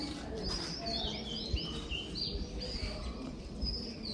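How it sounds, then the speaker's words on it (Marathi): Several birds chirp and tweet at a distance over a soft, steady outdoor ambience at a farmhouse in Poladpur, with occasional faint coos in the background. "पक्ष्यांची किलबिल ऐकायला येते"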